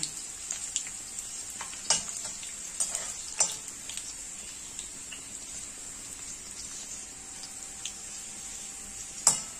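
Chopped onion goes into a pan of browning garlic, giving a steady, close, bright sizzle with occasional stirring scrapes and clinks of utensils against the pan.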